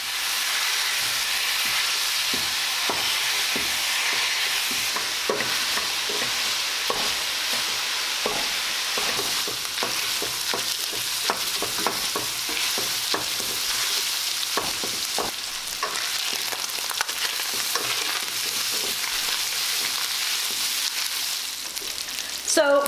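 Sausage browning in a pan for sausage gravy, with a steady loud sizzle and frequent scraping, stirring clicks as the meat is broken up, continuous throughout with no talking.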